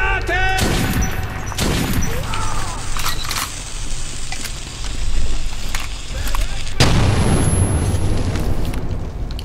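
A grenade blast and gunfire in the video game Metro 2033, a loud sustained roar of explosions and shots with crashing bursts throughout and a fresh heavy boom near the end.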